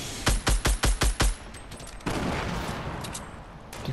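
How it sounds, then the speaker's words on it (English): Grenades explode in a video game: six sharp, evenly spaced blasts in quick succession, then a louder rumbling burst trailing off into noise, close and loud with no talk. "Did someone chuck nades?"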